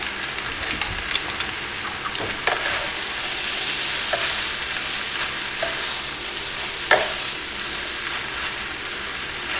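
Raw spaghetti stirred in a pan with seasoning, a continuous bright sizzle and hiss with scattered scraping knocks from the utensil throughout, no talking.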